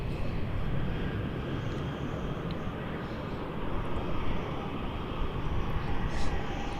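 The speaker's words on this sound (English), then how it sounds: "JQ512 has been given takeoff clearance." Jet plane JQ512 taking off at Melbourne Airport, a broad continuous engine roar heard from a distance that swells slightly toward the end, with no one talking over it.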